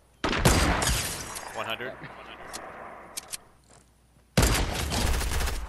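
Gunfire from a Fortnite match comes in loud bursts near the start and again near the end, with scattered shots in between, while players talk over it.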